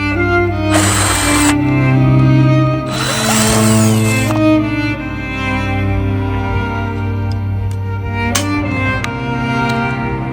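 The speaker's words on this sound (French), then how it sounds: "on est dans la journée ponçage" A power sander works on a van, giving two loud bursts of hissing, grinding noise over a steady mechanical hum, then a quieter stretch with a sharp tap near the end.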